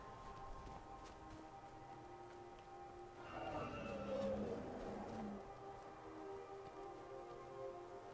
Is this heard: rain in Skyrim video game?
yes